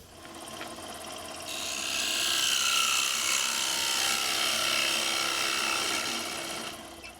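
A woodturning tool cuts into a wooden spoon rest spinning on a lathe, giving a loud, sustained scraping hiss that swells in, holds for several seconds and fades out, with no talking.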